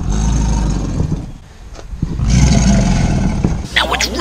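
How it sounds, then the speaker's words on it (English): An alligator's deep bellowing roar, a low rumbling growl that swells and fades over several seconds, close and loud, with a rougher burst near the end. "They make that bellow sound,"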